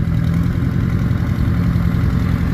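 A 1950 Oliver diesel tractor engine runs steadily and loud, a dense low clattering rumble that holds without a break.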